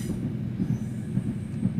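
A long Class 700 train in Train Simulator 2022 rumbles through a crossover, with a low rolling roar and rhythmic wheel thumps close by, and no talking.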